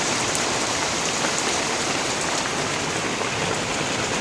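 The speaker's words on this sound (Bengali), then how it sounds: "বাইরে বৃষ্টি পড়ছে।" Steady, heavy rain pours down continuously, a dense hiss of drops on surfaces with no pauses.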